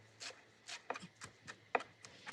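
A knife chops a bundled ball of fresh dill and other herbs on a kitchen board. The strokes are quick, crisp and evenly spaced, heard close up with no talking.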